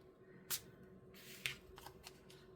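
A deck of oracle cards is shuffled by hand in a quiet room: a few short, crisp riffling bursts and soft card slaps with pauses between, close and faint overall.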